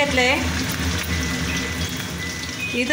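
Curry leaves hitting hot oil in a pan for samosa filling give a dense, crackling sizzle up close, steady throughout with small pops and spits, and no talking.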